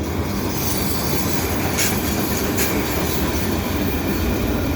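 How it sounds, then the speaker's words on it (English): A CN freight train rolls past close by at the Dorval ramps in winter, with hopper cars rumbling steadily and faint wheel squeal over a continuous loud roar. "Nice new CN hopper car. No graffiti."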